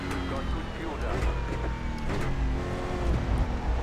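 A Toyota Corolla stock car engine in iRacing, the Brazilian Stock Car Pro Series, drones loud and steady on a lap, its pitch sliding up and down through gear changes and throttle shifts.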